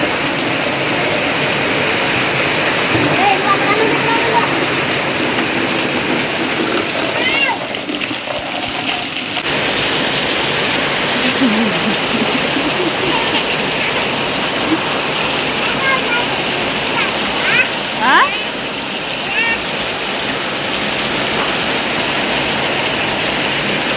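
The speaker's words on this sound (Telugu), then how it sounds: "అసలుకి వాన అయితే మాత్రం ఫుల్ వస్తున్నది" Heavy rain pours down in a village, a dense, steady hiss and roar that lasts throughout, with faint voices now and then.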